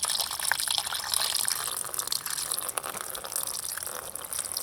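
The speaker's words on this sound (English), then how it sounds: "what I'm going to do is flush it out with some water and try to get as much of the rust and corrosion out of there as I can" Water flushing through the cooling system of a 2000-2007 Ford Taurus, a steady hissing gush of running liquid throughout, fairly close and even with no talk.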